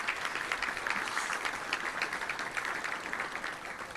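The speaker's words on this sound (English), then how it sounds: "let's give Simmons Bank and all of our sponsors a big round of applause" Luncheon crowd at a football touchdown club applauding sponsors, dense sustained clapping from many people that eases slightly toward the end.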